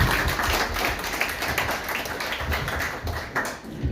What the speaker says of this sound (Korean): 박수를 맞이해 주시기 바랍니다